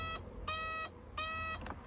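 Hazard warning light indicator on an Autocruise Starfire motorhome, an electronic beeping tone that sounds in repeated bursts of roughly a third of a second, clear and close, over a low background hum.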